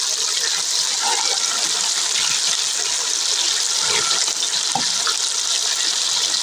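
Water is poured into mustard-greens saag cooking in a pot, a steady hissing, gushing stream that runs for several seconds with no pause.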